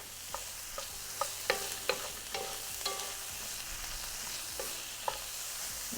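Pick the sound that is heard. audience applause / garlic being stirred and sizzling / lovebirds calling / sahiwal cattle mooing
garlic being stirred and sizzling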